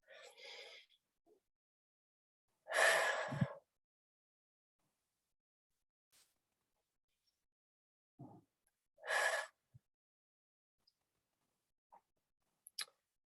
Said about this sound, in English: So go ahead, 2 deep breaths.